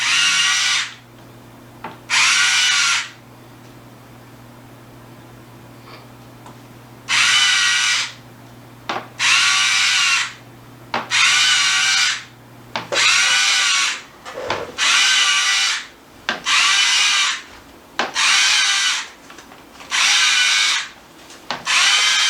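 Repeated bursts of a motorized whir from an electric cookie press making spritz cookies, about ten short runs separated by brief pauses, loud and close with no talking.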